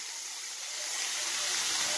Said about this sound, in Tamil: இதே நல்லா போட்டு வதக்கிக்கோங்க.